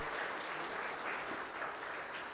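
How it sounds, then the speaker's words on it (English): Soft, continuous applause from a seminar audience honouring a speaker, fairly distant and muffled, with no voices over it. "Let us have a big round of applause"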